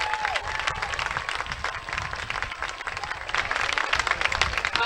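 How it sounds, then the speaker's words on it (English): Audience applause and clapping for 8th grade band members appearing as special guests of a high school band at a school event, a steady wash of many hands continuing throughout and swelling slightly toward the end. "Let's give them a round of applause."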